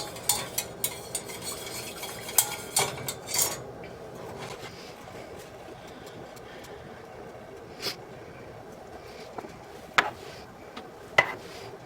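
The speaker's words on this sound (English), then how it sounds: "now I'm just going to stir this and let it thicken." A spoon stirs a chicken enchilada casserole mixture in a pan as it thickens, giving scattered clinks and scrapes against the pot, clustered early and recurring now and then over a soft steady background.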